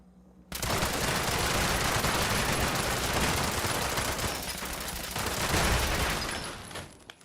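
Rapid automatic gunfire in Fallout 76 starts abruptly and rattles on continuously for about six seconds, loud and close, before cutting off.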